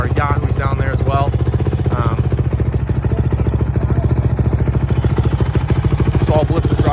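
A 2006 Honda CRF450R dirt bike idles loudly and close by with a steady pulsing thump, its throttle blipped now and then, while someone talks over it.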